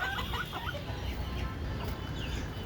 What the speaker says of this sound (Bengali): দেশি মুরগিকে কাঁঠাল রেসিপি, অর্থাৎ একটা কাঁঠাল আমাদের খাওয়ার অনুপযোগী হয়েছে, সেটা দেশি মুরগিকে দিব।